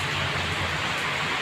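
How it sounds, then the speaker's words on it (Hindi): Steady rain falls outdoors, a continuous, even hiss of drops on surfaces close by, with no voices. "तो ये देखिए बारिश का नज़ारा"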